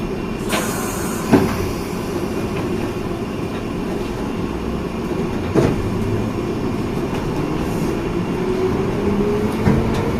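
A London Underground Piccadilly line train pulls away from Ruislip, a steady loud rumble from on board with a few metallic clicks over the track and a motor whine slowly rising in pitch.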